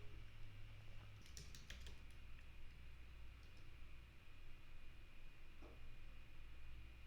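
Password typed on a computer keyboard during server setup: a quick cluster of soft, close key clicks, then a few scattered taps over a steady low hum and faint background hiss.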